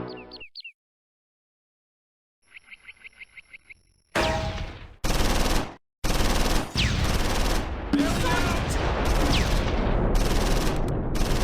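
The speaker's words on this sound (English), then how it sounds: "Both sides exchange anti-tank fire." Anti-tank fire exchanged in the World War II strategy game Close Combat 4, Battle of the Bulge at Baugnez: after brief game chimes, loud repeated cannon blasts and booming impacts arrive in a heavy, continuous barrage.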